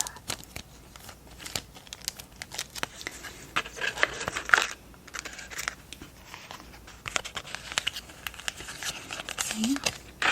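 A small plastic bag holding earrings on a card is handled up close, giving soft, irregular crinkles and rustles with light taps in a quiet room, spread across the whole stretch.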